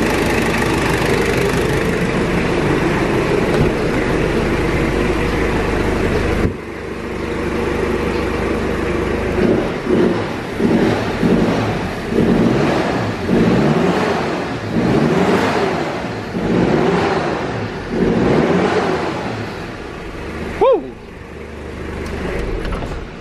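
A Honda EJ1 two-door coupe fitted with a Japanese 1KC engine idles loudly nearby, then is blipped through a series of short, rhythmic revs with rising and falling pitch, ending in a final sharp rev.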